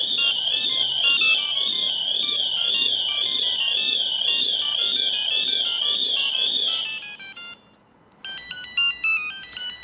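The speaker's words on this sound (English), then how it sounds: "the remote's instantly told me that the alarm's been triggered" A Ford Transit Custom van's car alarm wails continuously with a warbling siren tone for several seconds, then cuts briefly before sharp electronic beeps resume.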